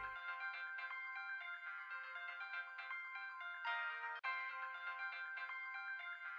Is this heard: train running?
no